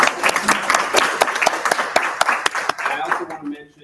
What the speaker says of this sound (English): a round of applause for our exhibition sponsors